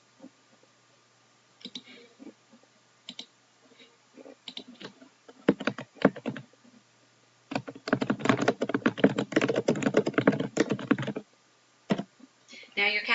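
Typing on a computer keyboard comes in uneven clusters of close, crisp key clicks, sparse at first and then a dense, rapid run toward the end, with no talking.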